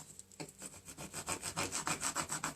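Transfer tape is rubbed down firmly on a wooden sign, a rapid rhythmic series of scraping strokes, close and fairly loud, with no voices.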